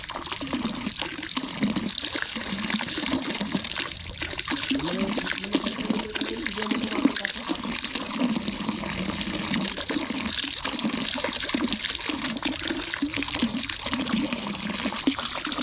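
Spring water from Mount Banahaw trickling and splashing in a constant flow, close and moderately loud, with a faint murmur of people in the background.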